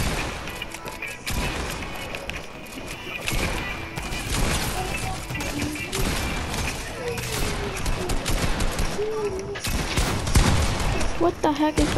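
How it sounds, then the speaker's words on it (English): Rapid bursts of Fortnite gunfire crackle loudly and almost continuously through a chaotic battle, with repeated shots and impacts layered under occasional talk. "I'm just gonna assume that I shoot at these people instead."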